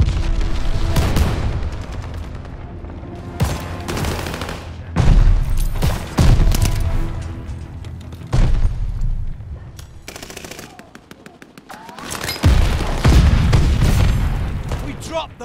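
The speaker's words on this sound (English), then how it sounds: "Enemy's got a glide bomb incoming." Heavy gunfire and booming blasts in Call of Duty Vanguard multiplayer, with a glide bomb incoming; loud machine-gun bursts and repeated explosions, with voices talking over the battle.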